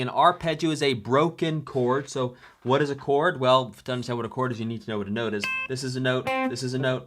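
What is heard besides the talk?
No everyday noise stands out behind the speech.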